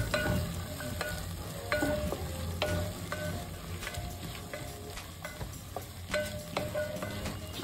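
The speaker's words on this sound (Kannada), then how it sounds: "ಅದು ಚೆನ್ನಾಗೆಲ್ಲ ಮಿಕ್ಸ್ ಮಾಡ್ಕೊಳ್ಳೋಣ." Garlic paste is stirred through a frying green-peas pulao base in oil, a spoon scraping and clinking against the pan in irregular strokes over a continuous sizzle, fairly close and without speech.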